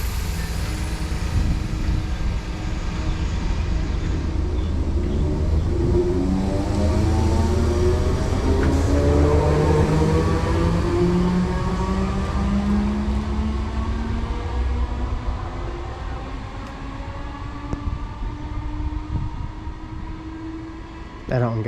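A Class 313 electric train pulls away from a station on the East Coastway line toward Brighton, a loud, close motor whine climbing steadily in pitch with rumbling wheels, fading gradually as it leaves.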